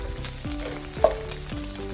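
Bacon browning in a pan gives a steady close frying sizzle, with occasional metallic clicks and taps from tongs or a utensil over the continuous crackle, and no one talking.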